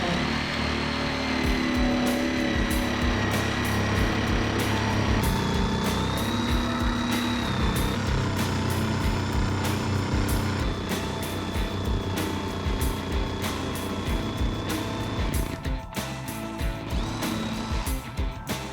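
A jigsaw cuts wood for a homemade tortoise table, a loud steady buzzing whine with a fast choppy stroke rhythm, running close and almost without a break.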